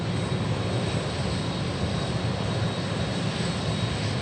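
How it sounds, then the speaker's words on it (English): A FedEx Boeing 777 at Memphis airport gives a steady, broadband engine roar that holds level throughout, with no voices over it. "We got a 777 headed our way to Anchorage."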